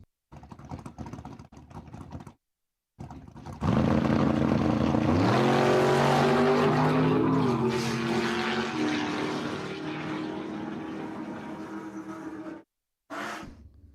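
Drag racing cars, a Plymouth Duster and a black Camaro, launch at Empire Dragway. Near engines roar and climb through rising gears for several seconds, then fade, with short bursts of engine noise before and after.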